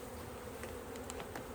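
Honey bees from a swarm captured out of a bush hum in a dense, unbroken buzz, with a few individual bees zipping close by.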